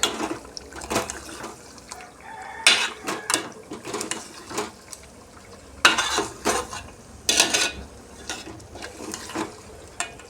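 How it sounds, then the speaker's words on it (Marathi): A spoon stirring stuffed eggplant curry in a pan produces repeated scraping, clinking strokes at an irregular rhythm, with a soft sizzle underneath, close and fairly loud, and no voices. "आणि यानंतर याला आपण चांगलं असं हलवून घेऊया"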